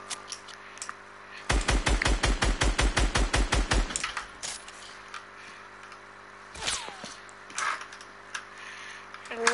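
A rapid burst of automatic gunfire in a video game, about a dozen crisp evenly spaced shots over two seconds, followed by scattered clicks and thuds.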